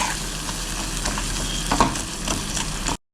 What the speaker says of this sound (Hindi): तो अच्छे से इसको फ्राई करते हैं।